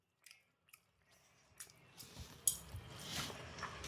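Someone eating fried fish: a few quiet, scattered wet chews and crunchy bites, close to the mic, growing denser and more squishy toward the end, with no talking.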